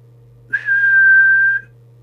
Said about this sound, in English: It's with the whistle test.